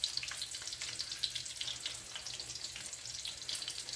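Dill pickles deep frying in hot oil in a wok give a steady, faint crackling sizzle with a soft low hum beneath.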